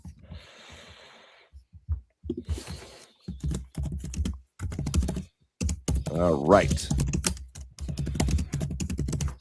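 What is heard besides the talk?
aggressive typing on a computer keyboard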